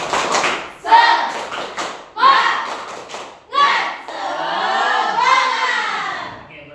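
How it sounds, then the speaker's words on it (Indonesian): A classroom group claps in a rhythmic pattern of short bursts, joined by shouted voices, ending in a longer stretch of sustained applause and cheering. "kita tepuk semangat."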